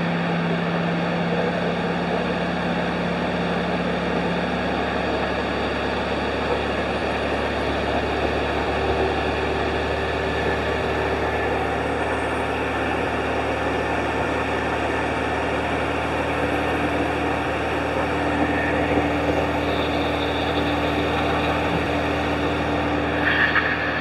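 An air-cooled VW engine fitted with a spraybar cooling system runs steadily at a constant speed, a close, even drone with a hissing, fan-like wash throughout.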